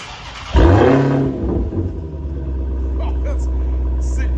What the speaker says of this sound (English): All right, guys, time for our initial startup. Get a couple of revs.